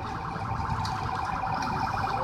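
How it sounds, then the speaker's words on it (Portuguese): Police escort sirens wail continuously at a moderate distance during a funeral procession, a steady electronic warble with faint background noise. "Sirenes ligadas, intermitentes ligados."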